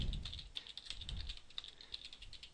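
Rapid, uneven keystrokes on a computer keyboard while text is entered into 12d Model surveying software, a steady close-up patter of light clicks running throughout at moderate volume with no talking.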